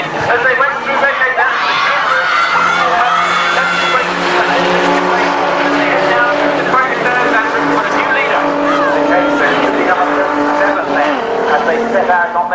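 Rover racing cars thunder past side by side at Donington Park in the Tomcat Vento Challenge, engines loud and continuous with tyre squeal, under a commentator's excited voice.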